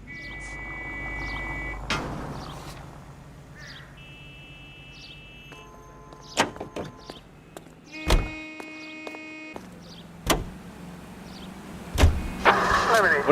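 A 1940s-style car in the L.A. Noire video game: doors thunk shut, a few sharp mechanical clunks and an engine starting and running low and quiet, with brief tonal interface beeps mixed in.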